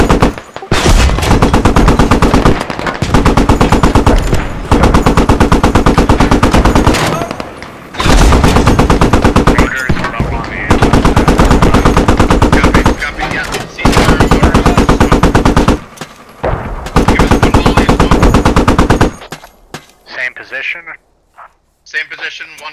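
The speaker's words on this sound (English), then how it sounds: "We're gonna shoot the shit out of the red zone." In the Squad video game, an M1A2 tank and machine guns fire in loud, sustained bursts broken by short pauses, while voices talk over radio chatter near the end.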